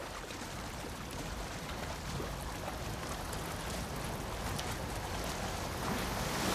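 A fast-flowing torrent of water in The Last of Us Part II rushes in a dense, continuous roar that holds steady and swells slightly toward the end, with no voices.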